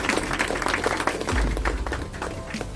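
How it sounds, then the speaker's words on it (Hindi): Children clapping together at a school prize distribution ceremony, a steady patter of applause that stays loud throughout, with a faint voice or two underneath. "बच्चों की तालियां तो जोर जोर से बजनी चाहिए"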